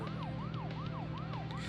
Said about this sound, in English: in order to drive faster, you have to have your sirens on.